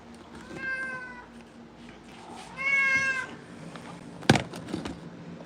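Cat meowing in two drawn-out, tonal meows, close and clear, followed by a sharp clatter and soft rustling.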